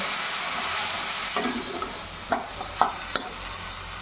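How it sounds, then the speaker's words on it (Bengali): Spice paste for a raw fish curry sizzles in a pan after water is added. Close, steady frying hiss runs throughout, broken by several scraping strokes of a stirring spoon. "জল দিয়ে আবার ভালো করে মশলাটাকে কষিয়ে নেব"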